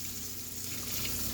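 Hot running water rinses a degreased foam air filter sponge from a Traxxas or Kyosho nitro RC engine, giving a steady, faint splashing rush throughout.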